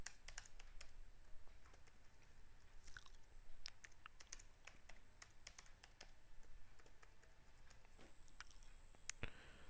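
Quiet keystrokes tap out a password on a computer keyboard in an irregular run of soft clicks, close and faint.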